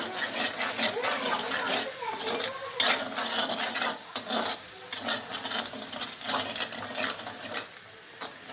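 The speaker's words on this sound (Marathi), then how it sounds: "तेल सुटेपर्यंत भाजायचा मसाला." Homemade onion-garlic masala roasting in oil in a pan, with steady sizzling and continuous scraping strokes of a spoon stirring it close up, no talking.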